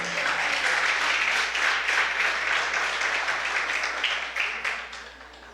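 A church congregation applauds during a family worship service, a dense, steady wash of clapping that holds for several seconds before thinning and fading out.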